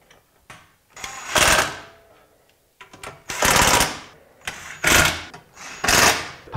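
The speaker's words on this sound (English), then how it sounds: "you'll put in these Phillips head screws." Phillips head screws are driven into a Mychanic detailing rig during assembly, with four close, loud whirring bursts from a powered driver separated by short pauses and softer handling noises.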